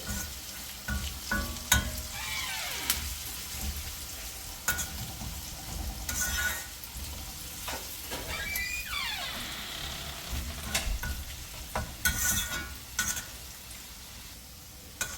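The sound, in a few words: ginger frying in a pan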